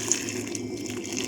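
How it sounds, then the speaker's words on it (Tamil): Hot water pours steadily into a bowl of dried fish for a karuvadu gravy, a continuous close splashing stream that runs alone without a break. "சுடுதண்ணி ஊற்றிங்க"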